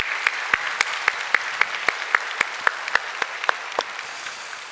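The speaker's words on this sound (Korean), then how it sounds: "우리 모든 일을 행하신 하나님께 우리 감사와 영광의 박수 올려드리겠습니다." A church congregation claps together during a Sunday worship service, producing a steady run of sharp, evenly spaced synchronized claps that fade slightly at the end, with no talking.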